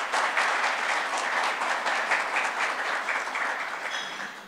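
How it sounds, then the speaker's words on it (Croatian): Sustained applause from an audience at a formal city council session honoring the year's city award recipients, dense steady clapping that holds throughout and tapers slightly at the end. "koje najljepše pozdravljamo jednim velikim pljeskom"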